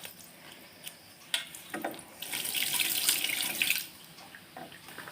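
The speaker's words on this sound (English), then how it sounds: "I'm going to wash this brush because it's pretty messy, this stuff. So I'm going to wash it" Tap water runs into a sink while a messy hair dye brush is rinsed, a steady close hiss that swells louder in the middle and then fades, with a few small knocks and no talk.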